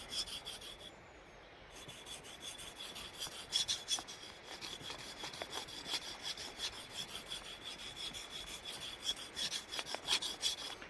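Quiet, gritty rasping as a blade is drawn back and forth across a sharpening stone in steady, repeated strokes.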